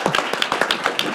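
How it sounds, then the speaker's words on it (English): Hand clapping for award winners at a housing affordability innovation event, with crisp, fairly close claps in a quick, uneven rhythm over about a second. "we deserve a big round of applause for these folks to begin with."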